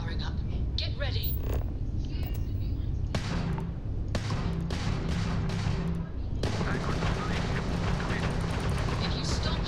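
Spaceship weapons fire against the player's ship in Starfield: bursts of rapid, punchy energy shots and booming impacts, loud and dense, with stretches of rattling fire separated by short gaps while voices talk over the action.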